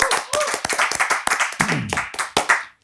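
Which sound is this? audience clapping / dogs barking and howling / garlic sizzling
audience clapping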